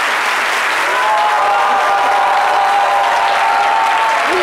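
Loud, sustained applause from a studio audience on a French midday television show, a thick continuous roar of clapping with faint crowd voices beneath.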